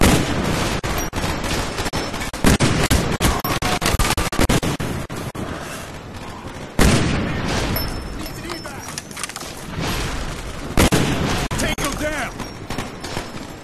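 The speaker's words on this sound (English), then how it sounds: "Enemy mortars incoming." Heavy enemy fire in Call of Duty Black Ops, dense booming and crackling explosions and gunfire pounding continuously, with loud impacts recurring every few seconds, close and saturated, while voices talk underneath.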